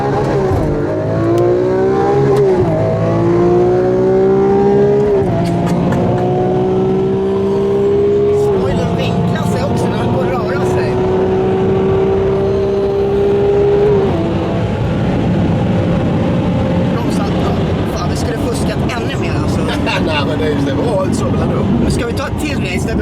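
Lamborghini Aventador V12 at full throttle, the engine note climbing in repeated rising pulls with brief drops at gear changes, loud and close, with people talking over it.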